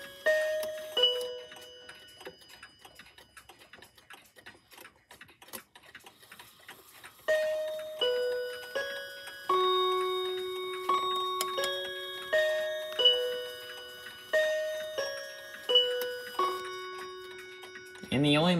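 A 2001 Seth Thomas Westminster chime mantel bracket clock ticking steadily, then striking the Westminster melody on small chime rods, a sequence of clear ringing notes, each decaying, heard close and alone.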